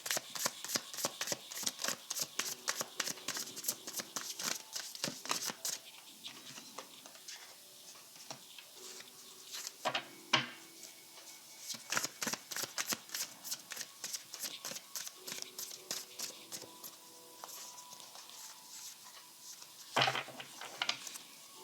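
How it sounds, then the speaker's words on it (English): Tarot cards are shuffled repeatedly by hand in quick riffling bursts with brief pauses, close and fairly soft, no voices heard. "I'm getting mixed signals on that card, so I'm just going to shuffle"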